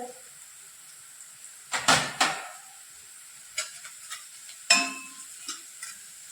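Curry leaves, asafoetida and turmeric dropped into hot oil with onion in a pan for pithla, sharp bursts of crackling sizzle that fade out between a few separate additions and stirs, close up, with no voices.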